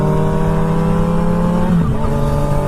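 A loud motorcycle engine idles and rumbles steadily in cold weather, close up, with a brief shift in pitch partway through.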